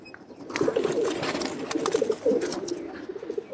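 A Lalpatti pigeon coos up close, soft throaty murmuring calls repeating in short rolling phrases against a quiet background.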